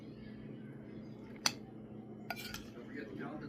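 A utensil stirs guacamole in a bowl, giving a couple of sharp clinks against the dish over a quiet, steady room hum, with a few softer scraping taps after.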